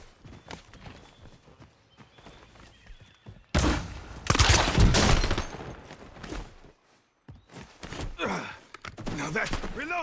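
Bursts of gunfire in a Warzone solos match, loud clustered shots with pauses between them, mixed with other game noise and a voice speaking.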